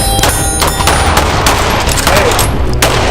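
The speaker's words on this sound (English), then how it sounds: "start pressing that trigger" Pistol shots from a low-light shooting drill ring out in a rapid string of sharp, loud cracks, close by, with no talking between them.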